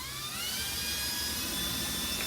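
A power drill with a countersink bit whines steadily and loudly while boring a hole for a charcuterie board epoxy mold, its pitch climbing slightly as it runs, with no speech.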